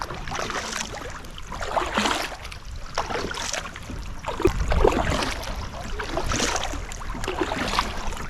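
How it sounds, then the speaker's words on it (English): Repeated splashing paddle strokes from a Crescent Kayaks CK1 Venture paddling upstream against a river current, steady rhythm with flowing river noise and light wind, no voices. "Very easy to paddle upstream"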